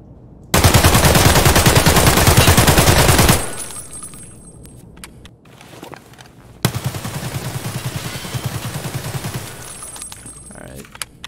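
Automatic fire from a 5.45 rifle with a 30-round magazine in Escape from Tarkov, loud and rapid: one long continuous burst, a short pause, then a second sustained burst, with no talking.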